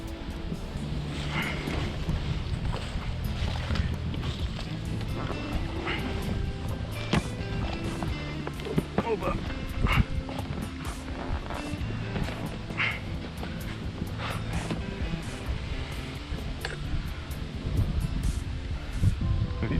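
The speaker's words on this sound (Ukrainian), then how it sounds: "Вітер такий страшний сьогодні дує" Strong wind roars and buffets continuously close by on the Psel River in October, with rustling and scattered knocks mixed into the steady rush.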